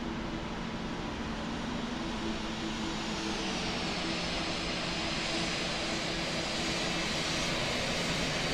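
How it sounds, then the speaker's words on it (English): In Microsoft Flight Simulator 2020, an HK Express airliner on final approach to the runway gives a steady broadband engine roar that holds evenly throughout. There is no talk. "You can see now it's ready, close to land on the runway 25 feet."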